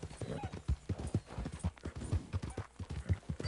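Horse hooves clip-clopping in Red Dead Redemption 2, a quick even rhythm of close, distinct hoof falls at a steady trot.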